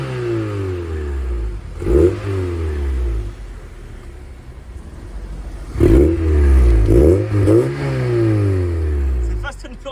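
A Mazda MX-5 NBFL fitted with a sport exhaust revs and pulls away, its engine rising in repeated loud sweeps between gear changes, with people talking over it.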